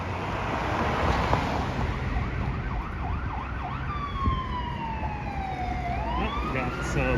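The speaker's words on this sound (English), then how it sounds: "got some fire truck action coming up" A fire truck siren wails along a Toronto street, its rising and falling sweeps growing into a long, loud tone over steady city traffic noise, with a little background talk.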